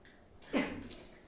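A single sneeze from a person at a computer, short and moderately close, rising out of quiet room tone.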